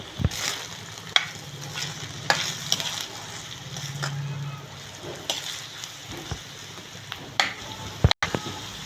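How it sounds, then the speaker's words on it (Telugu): Onions frying in oil in a pan for an egg curry, stirred steadily with a sizzling crackle and occasional scraping knocks from the spoon, fairly close and continuous. "నూనెలో ఫ్రై అయ్యే వరకు ఇలాగే కలుపుతూ ఉండాలి."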